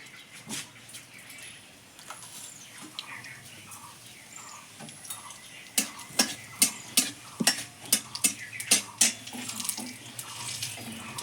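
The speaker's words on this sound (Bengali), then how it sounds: "এই রান্নাটা আমি সর্ষের তেলে করবো সর্ষের তেলে করলে খুব ভালো লাগে ফোড়নে দিয়ে দেবো আমি কালো জিরে" Black cumin seeds hitting hot mustard oil in a kadai, giving a soft steady sizzle with a run of sharp pops and crackles that grows busier partway through, close up with no talking.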